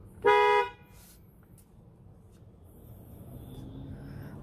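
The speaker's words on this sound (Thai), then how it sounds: "เดี๋ยวลองบีบแตรให้ฟังครับ" A single short car horn honk from a 2022 Mazda CX-30 sounds clearly and loudly, then gives way to a quiet, low engine hum.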